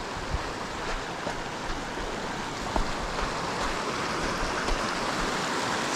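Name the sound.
Mill Creek flowing, hikers crossing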